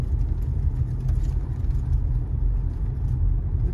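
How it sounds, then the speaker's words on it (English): A car drives through a hillside residential neighborhood in Prescott, Arizona, giving a steady, close, low rumble of engine and road noise throughout, with no voices. "We're going to take some neighborhood drives."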